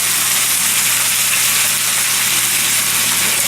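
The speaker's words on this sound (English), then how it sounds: "I got these searing up pretty good now" Bacon-wrapped BBQ ribs sear in a hot pan with a loud, dense, unbroken sizzle and a faint low hum beneath, close by, with no one speaking.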